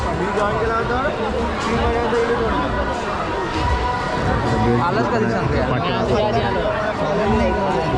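Dense, steady hubbub of a large crowd at a village temple fair (jatra) in Konkan, many overlapping voices and chatter close around, with no pauses.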